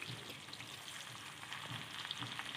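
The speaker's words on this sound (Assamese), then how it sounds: "পিঁয়াজখিনি অকণমান সিজালৈকে ভাজি ল'ম" Onions frying in oil already used for frying fish, for a fish curry with elephant apple, giving a steady, dense sizzle with fine crackles throughout, close and moderately quiet, with no talk.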